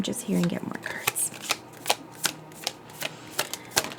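A deck of oracle cards being shuffled up close, with crisp riffling and a run of sharp, regular card snaps while a person talks at the start.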